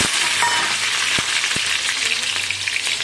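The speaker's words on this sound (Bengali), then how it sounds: "তো একে একে আমি সব সবজিগুলো ভেজে নেব।" Vegetables frying in hot mustard oil, starting with potato, giving a loud, steady, close-up sizzle with occasional pops and stirring scrapes throughout.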